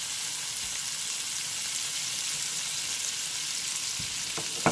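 Butter sizzles and crackles in a hot frying pan after chicken has been browned, a steady close hiss with a few light stirring taps near the end.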